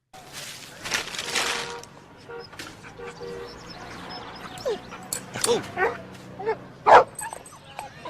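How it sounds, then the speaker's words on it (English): A small dog in a played video whimpers and yips in short bursts, a few sharp cries standing out near the end, over a continuous background of people talking. "Look at the cute dog."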